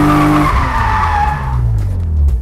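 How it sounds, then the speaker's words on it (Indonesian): A car launched at about 4000 rpm with a fast clutch release breaks into a drift, rear tires spinning and screeching loudly in a sustained squeal over a droning engine, close by, with no talking. "Oke, mobil langsung drifting, langsung sliding."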